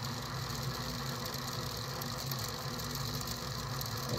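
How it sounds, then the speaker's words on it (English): Motors of a DIY budget six-degree-of-freedom motion simulator hold position, giving off a steady, faint hum and buzz with fan noise, continuous and close, with no talk. "the noise you can hear are the motors just trying to keep in place."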